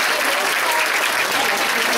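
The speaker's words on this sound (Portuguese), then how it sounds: "Mais um aplauso bem forte para essas crianças," A crowd claps loudly and steadily for a group of children at a church foundation-stone ceremony, the applause dense and continuous throughout.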